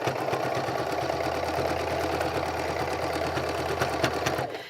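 Sewing machine running steadily as it stitches a seam through pinned fabric, a continuous close mechanical whir with a fast rhythmic needle chatter, alone and unbroken until it stops near the end.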